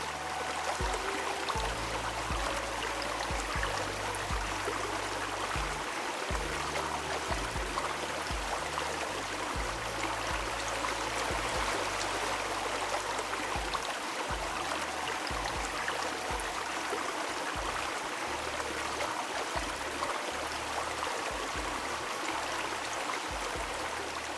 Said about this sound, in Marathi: काय सुंदर वाटत होतं झरा बघायला आणि त्याचा झुळझुळ आवाज ऐकायला